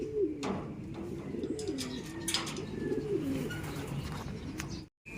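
A racing pigeon coos repeatedly up close as it comes back to the loft after a first training toss from the club truck, the soft rolling calls continuing through the clip with faint outdoor background noise.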